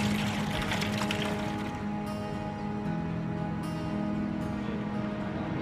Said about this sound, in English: The coasters use an ingenious sieve device to clean the whitebait on the river.